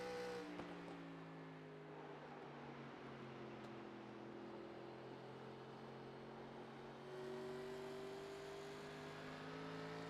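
NASCAR race car engines roar in the iRacing video game at The Rock, a steady, faint pack drone with layered engine tones that shift slightly and rise briefly near the end.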